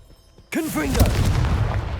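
A Confringo blasting spell bursts in Hogwarts Legacy with a sudden loud boom, followed by a sustained rumbling roar and crackle that fades slowly, with a voice briefly audible underneath.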